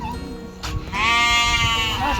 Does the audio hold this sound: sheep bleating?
yes